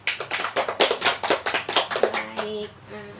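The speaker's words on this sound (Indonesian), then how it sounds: "bisa teman-temannya tepuk tangan" A small group of children in a group counseling session clap together in a quick, steady rhythm of sharp, close claps, tapering off as voices begin speaking near the end.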